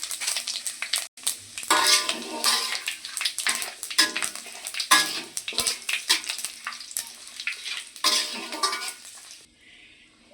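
Bay leaf, dry red chillies, ginger and panch phoron frying in hot oil in a pan for Bengali khichuri bhog, a steady loud sizzle with crackling spits and occasional clinks of a spoon, fading near the end.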